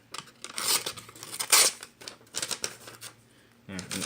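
A sharpened pocket knife slicing through a very thin piece of paper, heard as a series of close, crisp rasping cuts and tears, with a bit of low voice at the end.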